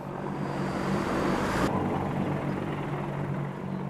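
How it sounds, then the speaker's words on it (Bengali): A military helicopter flies overhead, a loud, steady rotor and engine roar that holds evenly throughout, with its higher whine cutting off partway through and the low drone continuing. "আকাশে উঠছে সামরিক হেলিকপ্টার"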